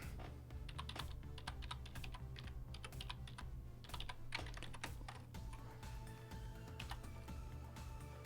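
Rapid, irregular keystrokes on a computer keyboard while writing Python code, clicking steadily over a constant low electrical hum with no speech.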